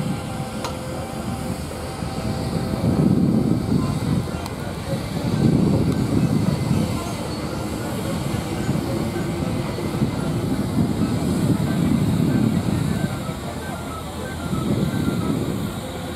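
A steam roller runs at a steam rally play pen, its engine giving a steady low chuffing rumble that swells and fades in slow pulses, with faint clanking and distant background noise, no voices.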